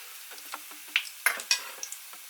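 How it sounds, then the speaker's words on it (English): Potato pancakes sizzle in a pan at medium-high heat with crackling pops and scraping clinks of a utensil, several sharp bursts over a quiet hiss. "You're frying it at about 2/3 of your heat on your range."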